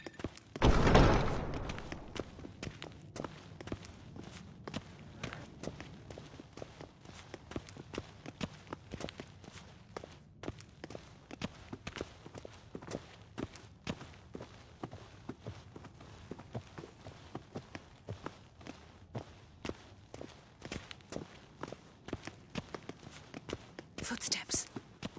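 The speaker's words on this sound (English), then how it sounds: "Footsteps." Footsteps in The Witcher 3: Wild Hunt: a steady run of soft, close steps that keeps going for about twenty-five seconds, with hushed, whispering voices over it.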